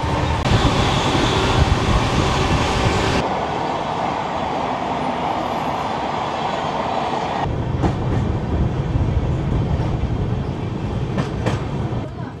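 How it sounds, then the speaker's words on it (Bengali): The 22811 Tejas Rajdhani Express roars past at close range near Cuttack, a loud steady rush of wheels and wagons with rhythmic clacking as the cars go by. "এই যে ট্রেনটা গেল, এটা হচ্ছে 22811 নিউ দিল্লির তেজস রাজধানী এক্সপ্রেস"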